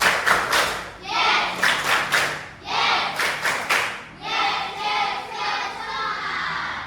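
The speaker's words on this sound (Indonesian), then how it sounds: "Tepuk semangat." Classroom students doing the 'tepuk semangat' cheer, clapping in quick rhythmic bursts with short pauses between phrases, fairly loud and close, with voices chanting along.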